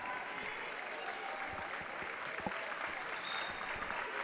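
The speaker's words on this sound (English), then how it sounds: "Gracie Johnson gets a nice ovation from the crowd as she just picked up foul number 5" Crowd at a girls high school basketball game applauding a player who fouled out, a steady wash of clapping from the stands with a few louder claps standing out, no voices on top.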